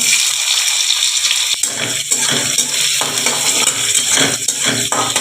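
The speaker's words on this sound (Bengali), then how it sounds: "এখানে জিরে, গোটা জিরে একটু দিয়ে দিলাম, একটু পেঁয়াজ কুচি দিয়ে দিলাম" Whole cumin seeds and chopped onion fry in a hot pan, a steady loud sizzle that fills the whole stretch with some stirring scrapes.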